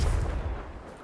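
Confringo fire spell blast in the Hogwarts Legacy video game, a heavy booming impact with dense low rumble that gradually fades over about a second.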